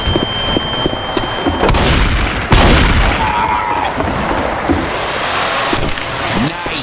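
Gunfire rings out in a zombie shooter game, with scattered sharp shots and heavier booming blasts mixed into a chaotic, noisy scene, and voices speaking at times amid the shooting.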